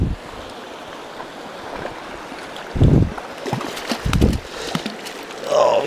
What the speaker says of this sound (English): Tiny little river.